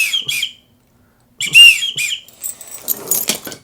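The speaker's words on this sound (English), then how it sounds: "I use this as a widgeon whistle" Widgeon whistle blown by a duck hunter in sharp, high, airy bursts: a short toot, a pause, then several quick whistled notes followed by a busier trilling flurry, loud and close.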